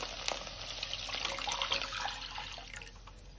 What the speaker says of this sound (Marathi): आता ह्यामध्ये आपण हे जे दूध आहे ते घालूया।